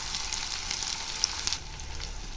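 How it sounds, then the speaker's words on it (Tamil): Onions frying in a pan for a chicken and drumstick curry, a steady soft sizzle with small crackles and pops, close and fairly quiet, with no voices. "இப்போ வெங்காயம் ஓரளவு ஃப்ரை ஆகிடுச்சு பாருங்கள்."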